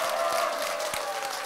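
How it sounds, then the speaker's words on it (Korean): A crowd at an outdoor singing event in a traditional market claps and cheers in a steady, dense wash of applause, heard at a moderate distance throughout. "함성과 박수 한번 주세요."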